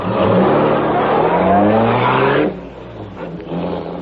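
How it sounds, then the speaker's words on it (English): A powerful black car roars loudly through city streets, its engine snarling continuously before cutting to a quieter rumble partway through, then swelling slightly again. "Once more, the powerful black car roared through the city streets"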